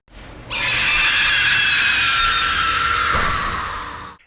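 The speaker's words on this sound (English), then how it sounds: "I'll rewind it back so you can hear what it sounds like when she does scream" Omnigul, a boss in the video game Destiny, lets out a loud, piercing shriek that holds steady for over three seconds, harsh and rasping, then tapers off near the end with a low rumble, heard without speech.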